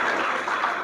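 A short burst of applause from a crowd welcoming a speaker at a poetry gathering, dense and steady, with no voices over it.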